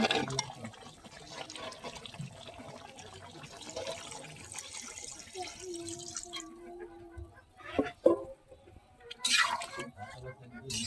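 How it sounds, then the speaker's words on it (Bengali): Water is poured into a pot of braised chicken and potato curry, producing a brief gurgling pour and splashes that come and go, faint against a quiet kitchen background with some soft noise. "এখন আমরা গোশটা আর আলুটা পুরোপুরি সেদ্ধর জন্য ঝোলের পানি দিয়ে দেব।"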